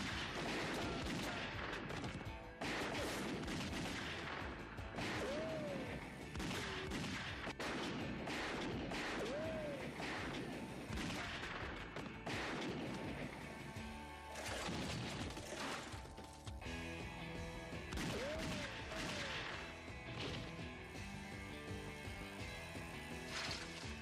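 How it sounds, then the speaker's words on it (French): Men fire guns in a loud, close shootout, with sharp, heavy shots in irregular bursts and single cracks, along with metallic mechanical clatter, and no pause in the firing. "Mais qu'est-ce que vous attendez pour tirer, bon Dieu? Tirez!"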